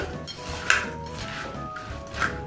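Boondi being stirred into jaggery syrup in a pan, with steady scraping and clinking of a spoon against the metal pan, continuous and close, with a couple of sharper knocks.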